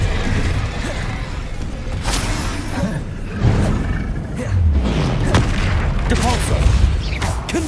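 Fire spell Incendio cast in Hogwarts Legacy combat: a booming, whooshing burst amid a busy run of blasts and impacts from other spells, loud and close over a dense battle backdrop.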